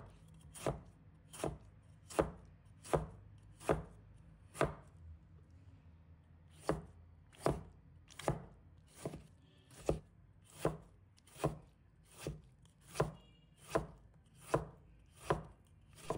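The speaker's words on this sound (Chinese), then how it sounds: "再将西红柿切成小粒，切得越小越好。" A knife chops a tomato into small pieces on a cutting board, giving crisp, evenly spaced thuds in a steady rhythm, close and clear with a short pause partway through.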